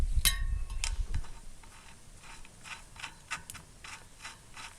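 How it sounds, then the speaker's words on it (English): Metal nut being threaded onto the axle of an e-bike hub motor, seated against the outside of the dropouts: a sharp metallic clink first, then a run of faint, irregular ratcheting clicks and scrapes up close. "I'll put the nut straight on so that the nut will be bearing directly onto the outside of the dropouts"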